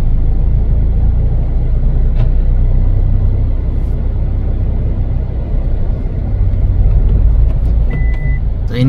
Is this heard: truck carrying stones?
yes